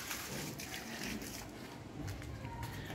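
Water running across a floor at home: a steady, close splashing and trickling wash that carries on evenly for a few seconds, with no talk.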